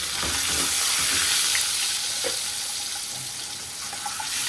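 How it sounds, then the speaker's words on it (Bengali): Turkey eggs fry in hot oil with chili powder, a steady close sizzle and crackle filling the whole stretch with faint scraping underneath. "এভাবে ডিমটাকে তেলের মধ্যে ভেজে নিলে খুব টেস্ট হয়"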